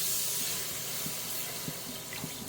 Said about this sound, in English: We're going to add some milk here, a little bit at a time